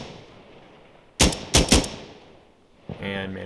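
Three sharp, loud single-fire rifle shots in quick succession from the Insurgency Sandstorm shooter game, ringing against a low ambient hiss, followed by faint rustling movement.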